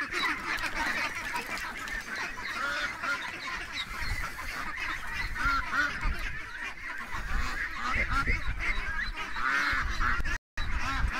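Ducks and geese quack and honk in a loud, continuous clamor close by, many birds calling over one another with no pause.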